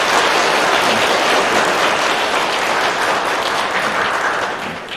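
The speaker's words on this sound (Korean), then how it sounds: "여러분들 인사드릴 때 따뜻한 환영의 박수 부탁드리겠습니다." A church congregation at a Sunday worship service gives warm welcoming applause, a broad, continuous wash of many hands clapping that holds steady and then begins to taper off near the end.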